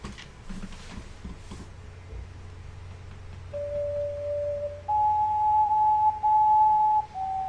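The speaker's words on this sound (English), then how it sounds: "It's the sound of my ocarina." Ocarina notes from the video game Star Ocean The Last Hope: a few sustained, pure, flute-like tones that step upward in pitch and grow louder, held steadily over a low background hum.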